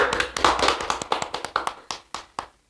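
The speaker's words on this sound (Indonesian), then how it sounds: "Kita beri tepuk tangan dulu." A small group claps at the launch of a local election commission programme: a quick run of about a dozen sharp, distinct claps in an uneven rhythm, close and clear, slowing and fading out before the end.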